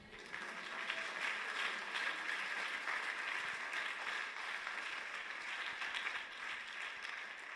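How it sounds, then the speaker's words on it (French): A church congregation at a French-language worship service bursts into sustained applause, a dense, even wash of clapping that holds steady for several seconds without voices standing out. "Acclame Jésus pour toi."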